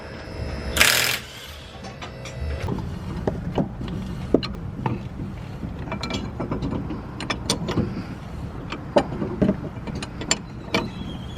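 Mechanical clanking and ratcheting as a car lift raises, with intermittent metallic clicks and a low motor hum.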